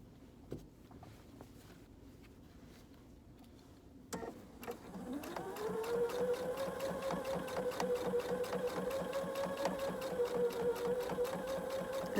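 A household sewing machine stitching white thread around a pocket on white pajama pants, needle down. Quiet handling noises come first, then the motor starts about a third of the way in and runs as a steady, close, rhythmic whir to the end.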